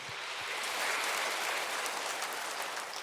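Church congregation applause after a prayer during a Sunday worship service, a broad, even wash of many hands clapping together throughout the room, steady and moderately loud.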